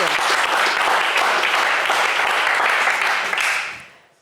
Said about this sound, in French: des applaudissements de la part du public